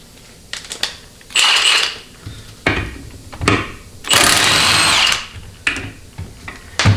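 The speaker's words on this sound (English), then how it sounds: "I'm going to have to bring in a more robust impact" A power impact wrench works loose over-torqued bolts on a Ford C6 transmission during a teardown, sounding in two long, loud sustained rattling bursts with several shorter hammering spurts between them, close by.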